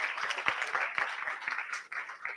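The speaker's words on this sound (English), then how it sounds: "A round of applause for Hawa." Audience applause for a participant at a youth leadership fellowship launch, steady dense clapping from a room of people with a few sharp individual claps standing out, moderately loud throughout.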